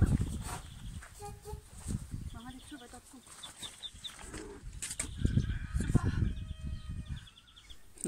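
Ducklings peep in repeated high, thin chirps near a mother duck outdoors, mixed with low rustling and broadband background noise throughout.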